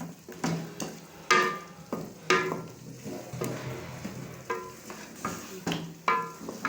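Aloo gosht of meat, potatoes and yogurt frying in a pan, with a spoon scraping and stirring in repeated strokes over a soft sizzle, close and steady.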